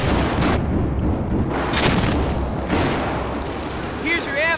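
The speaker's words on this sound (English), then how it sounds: "Grenades coming down the steps, watch it." Grenade blasts in the Battlefield 4 shooter on the Operation Metro map, heavy booming explosions and rumbling debris filling the scene amid chaotic gunfire, with players talking over it.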